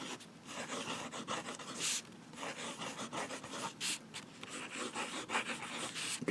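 A fountain pen scratching across paper in swirls and quick writing strokes, a close, dry, continuous scribbling with brief louder flicks.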